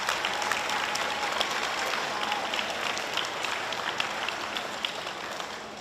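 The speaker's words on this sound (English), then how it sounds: "How about a round of applause for everybody?" Audience applause at a Next Generation Toughman Hawaii weigh-in, dense continuous clapping from a crowd that stays fairly even, then eases slightly toward the end.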